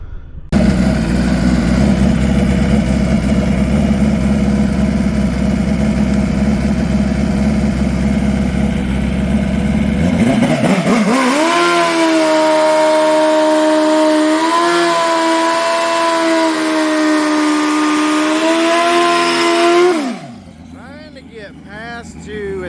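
Twin-turbo Suzuki GSX-R 1000 motorcycle engine roaring loud and close, a deep rumble for ten seconds, then climbing into a higher revving tone that rises and dips before cutting off sharply near the end.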